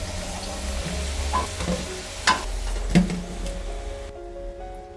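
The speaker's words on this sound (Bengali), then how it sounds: "আমি এই তেলের মধ্যে সেদ্ধ করে রাখা আলুগুলো ভেজে নেব।" Boiled potato pieces fry in hot oil in a pan, a steady sizzle broken by a few louder spatters and stirring knocks, fading near the end.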